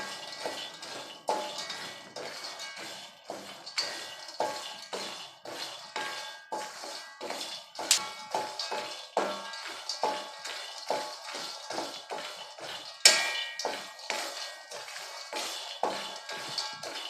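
Two cups of peanuts dry roasting in a pan, stirred continuously, give a steady, close rattle and scrape of nuts shuffling against metal, with sharper clatters now and then and no voices.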